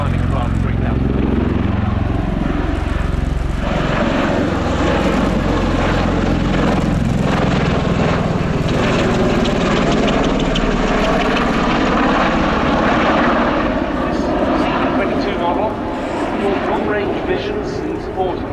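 A USAF Bell Boeing CV-22B Osprey tiltrotor flies a display at the RIAT 2019 airshow, its loud, continuous rotor and engine drone filling the whole stretch as it passes close by.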